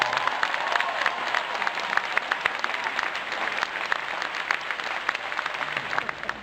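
An audience applauds Cornel West with sustained, even clapping and a few faint cheers, the sound steady and moderately loud across the whole stretch.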